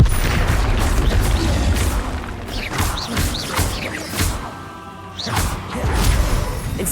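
A spell cast in the video game Hogwarts Legacy, heard as a loud booming burst with whooshing swishes and thuds, part of a continuous stretch of dense magical combat effects.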